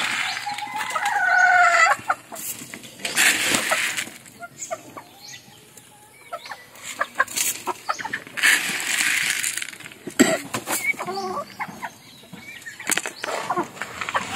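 Backyard hens with colds cluck and squawk in irregular bursts, some loud and close, with occasional clattering and scraping knocks in between.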